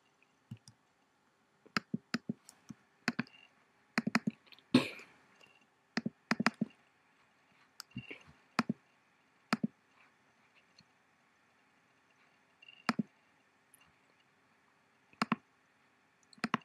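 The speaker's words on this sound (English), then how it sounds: "I'm just going to right click and say open with other, say VLC." Sharp, dry mouse clicks on a computer, coming in scattered single and double presses with short pauses between them, close and fairly quiet with no talking.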